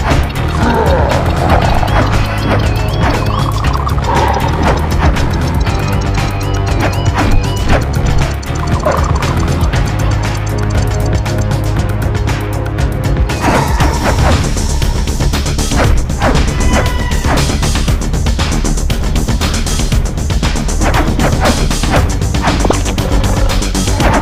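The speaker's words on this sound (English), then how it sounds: "No good, Crash. I'm still smashing you flat." Fight hits in the Crash of the Titans video game: repeated smacks and crashes over a constant layer of game music and effects, dense and loud for the whole stretch.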